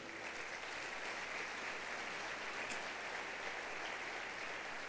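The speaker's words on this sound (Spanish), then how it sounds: "Denle un aplauso a Dios por ello." Steady, dense applause from a large church congregation fills the whole stretch, even and unbroken, heard from a slight distance.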